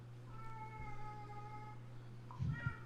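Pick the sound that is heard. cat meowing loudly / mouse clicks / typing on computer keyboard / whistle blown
cat meowing loudly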